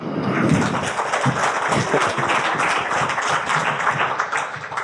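Audience applause at a masterclass event in Nîmes: steady, dense clapping from a room full of people that holds at an even level for about five seconds with no pauses.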